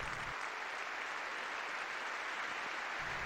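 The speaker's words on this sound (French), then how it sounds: "une longue salve d'applaudissements a éclaté" Long sustained applause from a large crowd of faithful after Pope Benedict XVI's last mass, dense and steady throughout, a broad wash of clapping with no voices standing out.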